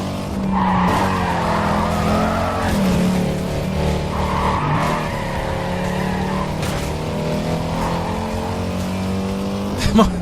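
A race car in Need for Speed Carbon accelerates hard out of turns, tires squealing and skidding in long sustained screeches over a roaring engine, with a brief burst near the end.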